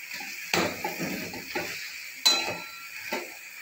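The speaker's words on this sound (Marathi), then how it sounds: "मेथीची भाजी तेलात 3 ते 4 मिनिटापर्यंत छान परतून घ्यायची आहे" Fenugreek leaves sauté in hot oil in a pan, with a soft sizzle under a few distinct scrapes and clinks of a spoon stirring against the metal, spaced irregularly and heard up close.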